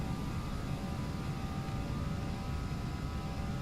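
Airbus A319 jet engines roar at takeoff power in the Flight Simulator X game, a steady, dense rumble with a faint whine above it, continuous and unvarying throughout.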